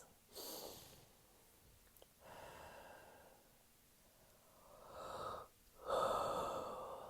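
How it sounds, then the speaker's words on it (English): Deep breaths during a guided meditation, heard as slow, soft inhales and exhales spread over several seconds, close and quiet, with no talk over them. "take 3 deep breaths."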